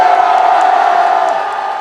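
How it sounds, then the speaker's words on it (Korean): A large outdoor crowd at a March 1st political rally in Yeouido roars and cheers in a loud, sustained wall of shouting with scattered whoops. "우리의 함성이 들리십니까?"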